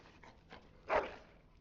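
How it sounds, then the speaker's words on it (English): A dog in Dragon Age: Origins gives a short whimpering yelp near the end, brief and fairly close, following a few faint softer sounds. "Bloody dog."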